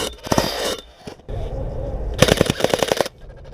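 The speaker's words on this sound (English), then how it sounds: "the gun was on semi-auto and it went full and fed a whole ton of BBs into the chamber" An airsoft gun set to semi-auto malfunctions and rips off two fast full-auto bursts, a sharp mechanical rattle of rapid shots separated by a brief lull, loud and close, with a little background chatter.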